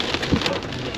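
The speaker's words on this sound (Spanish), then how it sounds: "Vean los granizos." Dense, loud patter of hail mixed with heavy rain falling close by, with sharp scattered hits over a steady wash.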